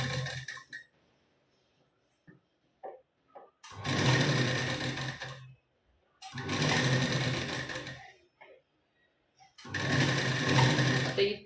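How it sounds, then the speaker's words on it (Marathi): A sewing machine stitches back and forth along a shoulder-joint strip on a blouse, running in three long loud bursts separated by short pauses with faint handling noises. "मागे पुढे शिलाई करून घ्यायची."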